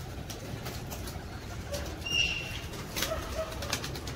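A pigeon coos softly nearby as wings flap briefly in a short burst, with faint background hum and no talking.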